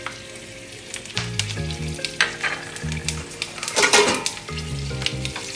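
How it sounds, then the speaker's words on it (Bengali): Split green chillies and kalonji crackle and sizzle in hot oil for an aloo-free ilish begun curry base, a steady close frying hiss punctuated by sharp pops and a few spoon scrapes, with no talking. "এবার ওই তেলের মধ্যে আমি দেব দুটো চেরা কাঁচা লঙ্কা"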